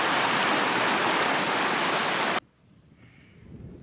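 Wolf Creek rushes at a trail crossing as a loud, dense roar of flowing water that cuts off abruptly partway through, leaving faint ambient sound.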